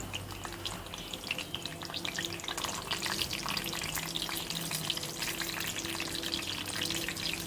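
Constant sizzling of tomatoes frying in a pan, with small scattered pops and crackles throughout, fairly quiet and close.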